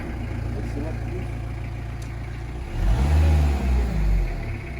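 A warmed-up car engine revs up hard, swelling into a loud, low roar midway after a steady idle rumble, with a person talking nearby.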